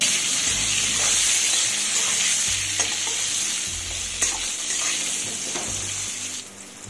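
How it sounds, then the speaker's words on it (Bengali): Eggplant pieces seasoned with salt and turmeric fry in hot oil with a constant bright sizzle, while a spatula turns them in repeated soft scraping strokes close by. "এবার বেগুনগুলোকে উল্টে পাল্টে লাল করে ভেজে নিতে হবে।"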